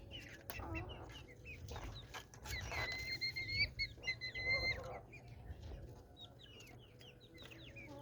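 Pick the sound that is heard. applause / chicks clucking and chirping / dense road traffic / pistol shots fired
chicks clucking and chirping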